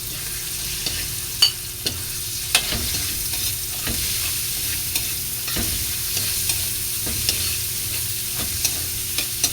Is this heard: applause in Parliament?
no